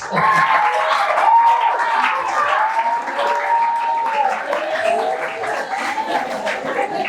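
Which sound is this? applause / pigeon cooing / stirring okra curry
applause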